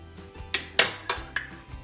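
A metal spoon cuts into and scoops set jelly in a dish, giving four sharp clinks against the dish in an even rhythm, close and clear with no talk.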